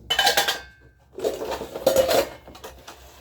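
A pressure cooker and dishes are scrubbed and handled at close range, with loud metallic clanks and scrapes in two bursts separated by a brief pause.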